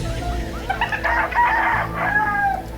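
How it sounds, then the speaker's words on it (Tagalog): A rooster crows once, loud and close, a rising then drawn-out call over light background noise, with a few clucks from other fowl around it. "Isang tilaok rin na."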